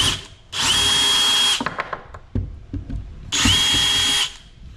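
A power drill turns screws on Toyota Tacoma bed tie-downs, giving two loud, steady whirring bursts about a second long, separated by clicks and small handling knocks, close up with no talk.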